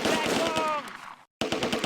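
Machine gun fire in the Close Combat wargame, sustained rapid bursts that are loud and close, cutting out briefly before the firing resumes, with faint voice-like sound mixed in.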